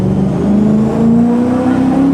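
A tuned BMW E39 M5 V8 roars at a steady high-rpm drone on a dyno, its pitch climbing slightly as it holds near the limiter, loud and close with no voices.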